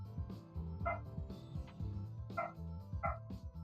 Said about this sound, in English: I haven't heard that dog in days.